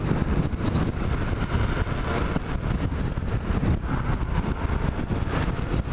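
An engine idles after a valve adjustment, running slightly low. It makes a steady, dense rumble throughout, mixed with wind noise across the microphone and no break or change in rhythm.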